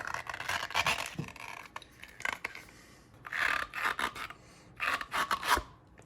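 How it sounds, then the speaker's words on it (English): An old rubber bushing being pushed out of a Kawasaki KRX 1000 engine mount, giving close rasping, scraping rubs in several short bursts with brief pauses between them. "I'm gonna go ahead and take out the old bushing. And how you do that is just kind of push it through here."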